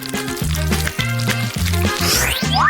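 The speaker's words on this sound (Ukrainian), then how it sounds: "Сюди я налю полуничний сироп." Strawberry syrup pours and splashes steadily into a deep plate for a few seconds, close by, with a low hum underneath.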